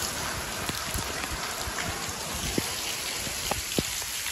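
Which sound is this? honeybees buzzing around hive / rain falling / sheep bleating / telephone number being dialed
rain falling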